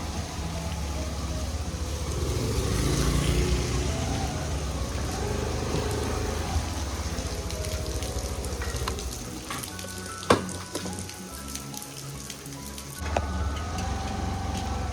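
Steady hissing monsoon rain fills the scene at Talegaon, with the rumble of passing traffic and a couple of sharp knocks near the end.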